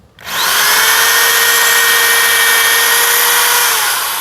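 A Dongcheng DJZ10-10 electric drill spins up abruptly and whines loudly and steadily at close range, holding a constant high-pitched buzz.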